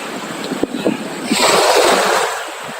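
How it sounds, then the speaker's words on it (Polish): Sea waves washing onto a beach, a broad rushing surge swelling in the middle and easing off, with wind buffeting the microphone and occasional low thumps. "Niestety słychać morze."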